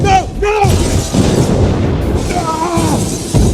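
A grenade explosion in a Bad Boys Ride or Die film scene, a heavy boom and shattering debris in a short burst, mixed with shouting voices around it.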